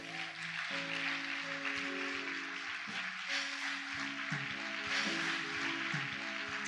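Broad, steady clapping from a church congregation during a Spanish-language worship service, a dense continuous wash of applause lasting several seconds with a faint tonal hum beneath it.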